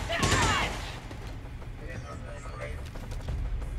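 Gunfire in the turn-based strategy game XCOM: a loud burst of shots opens, then fades into a lower rumble and scattered game effects, with a voice talking over part of it.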